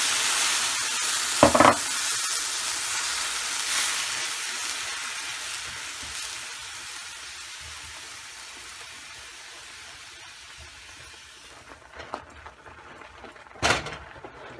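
Chana dal cooks in a pan with milk over low heat, a close steady sizzle and stirring hiss that slowly fades, with a couple of sharp knocks against the pan.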